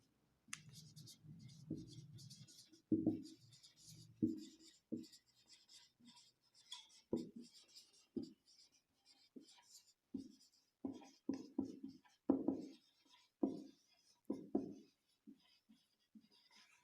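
A pen writes out a definition of bending moment on paper, with close, crisp bursts of scratching strokes and short pauses in a quiet room, continuing for many seconds with no talk.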